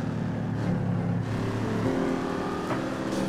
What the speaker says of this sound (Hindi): देख रहे हो इंजन छोड़ते ही जो आवाज है ना